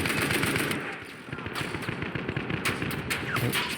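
Enemy gunfire in the World War I shooter Battlefield 1, with rapid machine-gun bursts crackling in dense, uneven volleys that rise and fall over a noisy battlefield.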